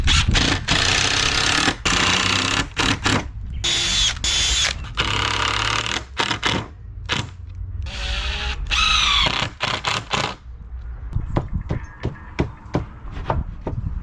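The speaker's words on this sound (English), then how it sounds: "if they're getting a little dry, it's best to pre-drill so they don't split," A power drill pre-drills holes in wooden fence boards for a gate, running in several loud bursts of whirring with short pauses between them, then tapering into lighter intermittent clicks and handling noises.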